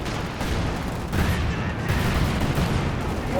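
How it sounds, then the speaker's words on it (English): Cluster bomb strikes in the real-time strategy game Company of Heroes 2, a dense, continuous rumble of overlapping explosions and crackling blasts that stays loud throughout with no clear gaps. "In come the cluster bombs."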